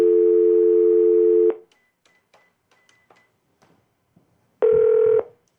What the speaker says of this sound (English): Let's see what happens if we call Abe.